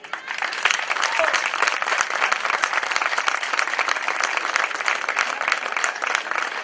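Audience at a San Juan night festival proclamation breaks into steady, dense applause, loud and sustained throughout with no talking over it.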